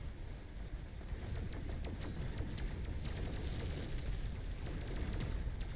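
Missiles from the mechs of Mechabellum, a futuristic strategy battle, pop and crackle in a steady barrage of small blasts over low rumbling, heard at a moderate distance and fairly quiet.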